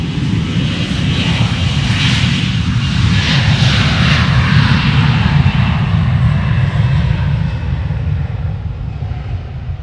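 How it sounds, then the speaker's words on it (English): Delta jet airliners taking off back-to-back from Austin Bergstrom International Airport, a loud steady engine roar filling the whole stretch with a slowly shifting whine, heard from nearby without pause. "So we got back-to-back Delta departures."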